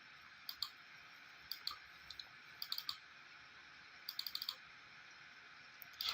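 A computer mouse clicking, faint quick clicks heard singly and in short clusters, over a quiet hissing background.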